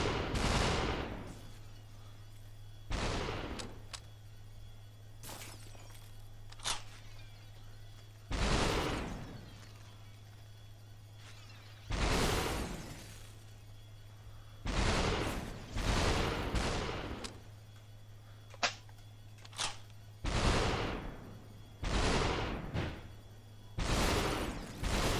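Gunshots ring out in the Superhot VR video game on PSVR, a series of sharp, loud single cracks spaced irregularly, some in quick pairs, over a steady low electronic hum.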